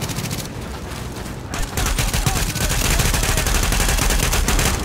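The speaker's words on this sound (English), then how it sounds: "More grenades." Rapid bursts of gunfire and grenade blasts in The Division shooter game fill the scene with dense, loud, overlapping cracks that intensify partway through.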